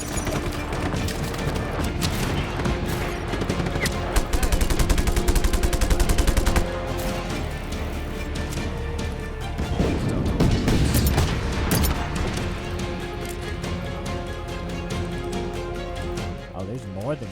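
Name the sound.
grenades exploding in Just Cause 3 video game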